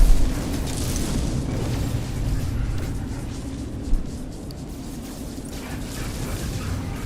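Explosions rumble during space combat in No Man's Sky. The booms are loud and low with a continuous roar, and one sharper burst comes near the middle.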